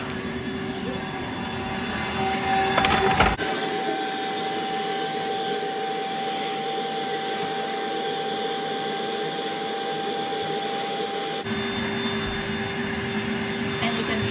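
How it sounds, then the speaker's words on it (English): A Rainbow vacuum cleaner with a brush attachment runs with a loud, steady whine and airy roar, its pitch shifting as the brush is worked, then settling into a continuous drone. "it's a brush and it's attached to the vacuum"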